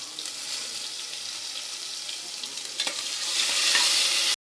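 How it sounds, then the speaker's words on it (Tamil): Ginger garlic paste sizzles in hot oil in a pan over fried small onions, a bright hissing fry with occasional spoon scrapes that grows louder near the end before stopping abruptly, close up and without speech. "நம்ம இஞ்சி பூண்டு பேஸ்ட்டு போட்டுக்கலாம்."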